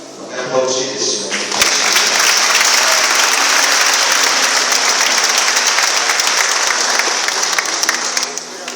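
Wedding guests break into loud, sustained applause for the newly declared bride and groom at a church ceremony, the clapping swelling after a moment of voices and holding steady for several seconds.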